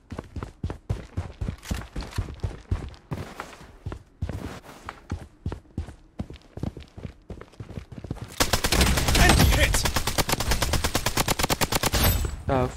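Gunfire in the shooter game Project Bloodstrike comes first as spaced single shots, then turns into a dense, rapid automatic burst in the final seconds, loud and close with no voices.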